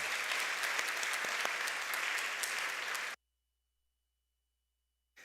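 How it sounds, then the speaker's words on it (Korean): A church congregation claps in welcome for newcomers during a Sunday service, many hands clapping evenly in a roomy hall for about three seconds before stopping abruptly into silence. "일어서시면 환영의 박수를 드리겠습니다"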